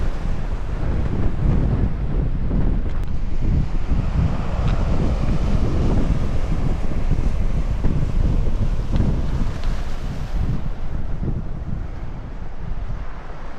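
Strong wind on the north Cornish coast at Bude roars continuously into the microphone as loud, low buffeting rumble for the whole stretch, with no voices.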